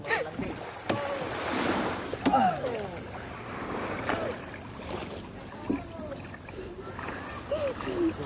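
A small boat moves across ocean water in a tropical setting, with soft splashing and low hull noise under a faint wind, and scattered quiet bird calls over a gentle, steady wash.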